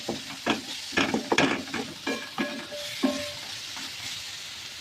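Onion-tomato chutney with Kashmiri red chilli powder, red chilli powder and turmeric being mixed in a pan, repeated close scraping strokes of a spoon over a low frying hiss.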